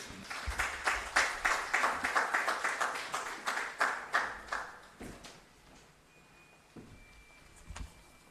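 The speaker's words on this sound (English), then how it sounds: "Ladies and gentlemen, have a big round of applause." Audience applause at a startup bootcamp inaugural session for young people, a burst of clapping for about five seconds that fades out, leaving a quiet room with a few faint knocks.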